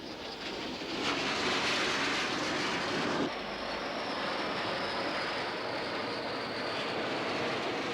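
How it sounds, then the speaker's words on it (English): French-built Mystère fighter-bomber jets pass overhead with a broad, loud roar that swells near the start, then drops into a steady, sustained rush without any talking. "In the first wave, French-built Mystère fighter bombers."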